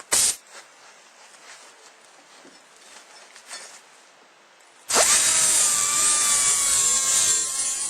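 An ax head's edge is beveled on a grinder. Faint handling clatter and quiet rustling come first, then a loud, steady, high-pitched whine of steel against the wheel sets in abruptly and continues to the end.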